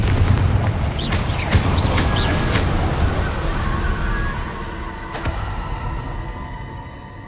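A Confringo spell explodes in the video game Hogwarts Legacy with a loud booming burst at the start. A rumbling tail and scattered game effects follow it, then the sound fades out.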